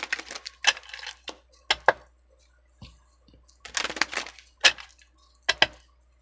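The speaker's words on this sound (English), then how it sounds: "I do a lot of shuffles because I do sometimes my pre-shuffles." Tarot cards being shuffled by hand in a quiet room, a series of crisp riffling bursts and soft slaps in irregular clusters, close and fairly faint.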